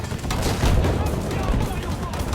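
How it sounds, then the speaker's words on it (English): Machine-gun fire in a tank video game with self-propelled anti-aircraft vehicles, a steady dense rattle of rapid shots lasting throughout, loud and close, with battle noise layered underneath. "Stop machine gunning my gunner, please."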